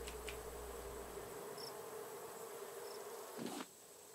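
Bees buzzing in the survival game Raft, a steady insect drone with a few brief whines passing close, running without any talk.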